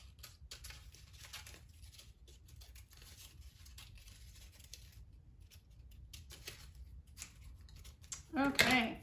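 Scissors snipping out paper shapes for a craft rocket, a faint run of small close cuts and paper rustle that swells into a louder burst near the end.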